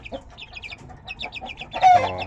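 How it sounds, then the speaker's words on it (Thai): A hen of Thai fighting-chicken stock from the Nakhon Luang green line clucks in a quick run of short, close calls, then breaks into a louder, drawn-out squawk near the end. "ตัวนี้เป็นไก่เยียนะครับ"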